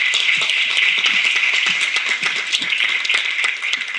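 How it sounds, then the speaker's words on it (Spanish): Audience at a comedy festival show in Miami applauding, a dense, even wash of many hands clapping that holds steady throughout and tapers slightly at the end. "lo primero que quiero hacer es darle un aplauso al festival por haber montado esto"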